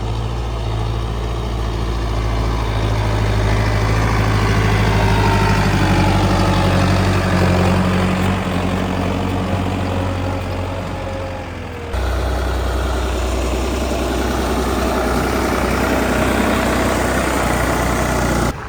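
A heavy diesel New Holland 3630 tractor engine idles steadily and loudly at close range, returning with harvested paddy, a deep continuous rumble that shifts slightly in tone partway through.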